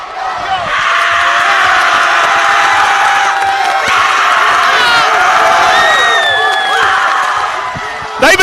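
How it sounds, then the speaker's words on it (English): A raucous high school student section roars and cheers at a district basketball tournament final, a dense, loud wall of shouts and whoops that is sustained for several seconds with sneaker squeaks and a ball bounce. "I want y'all to listen to the student section"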